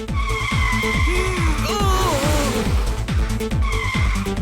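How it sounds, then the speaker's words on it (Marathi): A cartoon car brakes hard and skids into a turn during a chase, its tires screeching in loud, swooping whines over a pounding, rhythmic backing track. "गाडी जोरात ब्रेक मारल्यामुळे टर्न झाली"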